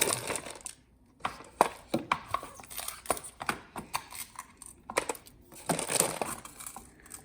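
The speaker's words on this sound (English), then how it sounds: "Got ice in a tray." Ice cubes are cracked and twisted out of an ice tray for iced coffee, giving a series of close, sharp crunches, clacks and rattles in irregular bursts, with no talk.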